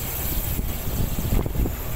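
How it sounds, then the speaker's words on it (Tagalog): Refrigerant gas pressure hisses out of an HVAC unit during compressor replacement, a continuous broad rushing noise at steady loudness with faint knocks underneath. "So release lang natin yung gas pressure"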